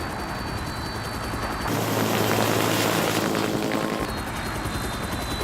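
A loud, steady helicopter rotor and engine roar fills the middle seconds, with softer engine drone before and after, and no talking.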